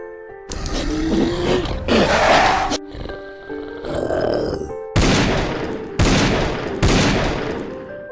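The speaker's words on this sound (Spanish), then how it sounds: "Se dispusieron a correr en dirección mía, pero les disparé con mi revólver." Revolver gunshots ring out as a sound effect in a zombie audio drama, several loud sharp blasts near the end following growling and roaring creature sounds, with no talk.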